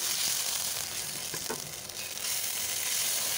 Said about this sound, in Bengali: এরপরে বেটে রাখা আদা রসুনটা আমি সুন্দর করে ভেজে নেব, যাতে কাঁচা গন্ধটা চলে যায়।